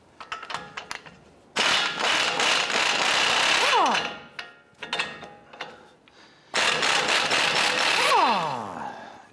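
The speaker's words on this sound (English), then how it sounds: "Using a 21 millimeter socket, we're gonna go ahead and loosen our outer tie rod end nut." A ratchet with a 21 mm socket loosens the outer tie rod end nut on a 2011-2018 Ram 1500, two long bursts of rapid clicking close up, separated by shorter ratcheting strokes and clinks.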